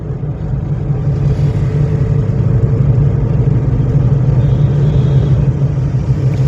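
Steady car engine rumble while driving during a lesson, a continuous mid-pitched drone with slight rise in revs, close and fairly loud.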